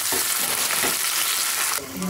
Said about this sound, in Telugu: తాలింపు బాగా ఫ్రై అయింది కదండి.